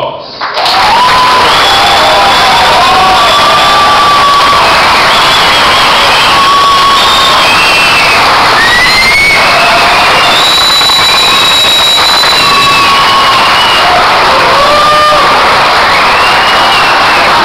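Loud, sustained applause and cheering from the audience at a 2012 graduation ceremony for new technology graduates, with scattered shouts and whistles riding over the dense clapping for the whole stretch.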